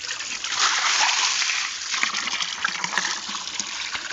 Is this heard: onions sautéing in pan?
no